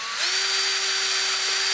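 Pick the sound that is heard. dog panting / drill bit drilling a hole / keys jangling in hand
drill bit drilling a hole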